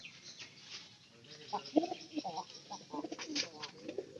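Domestic pigeons coo from a household loft where they were fed maize and feed, a soft rhythmic series of low calls growing busier in the second half, fairly near, with faint background noise.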